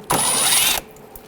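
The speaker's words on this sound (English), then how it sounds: "use a 8mm socket, take this bolt out," A brief, loud mechanical whirring burst of under a second as an 8mm socket takes out an inner fender well bolt on a 2007-2013 BMW 328i, followed by quiet.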